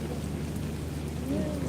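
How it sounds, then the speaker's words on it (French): Steady rain in Paris hisses and patters on a surface, a continuous wash of sound with a low rumble underneath. "Ici, il pleut bien, là."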